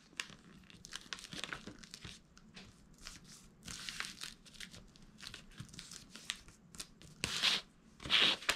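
Paper being folded along a crease while making a bag: soft crinkling and rustling with scattered sharper crackles, close and fairly quiet, growing louder toward the end.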